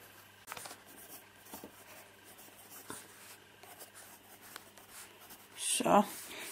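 A pencil lightly sketches lupine flowers on paper in loose strokes, with soft scratching and scattered taps, ending in a louder rustle near the end.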